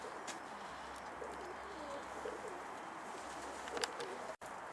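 Pigeons coo softly and steadily inside their coop, with faint rustling and occasional higher chirps over a low background hum.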